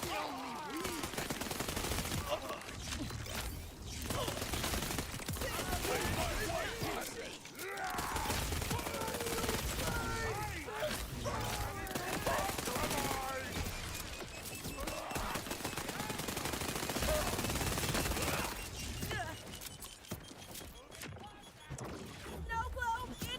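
Rapid SMG gunfire in the video game Borderlands 4 sounds in dense, sustained bursts with impacts and explosive crashes, loud and continuous with only brief pauses, while a person talks over the action.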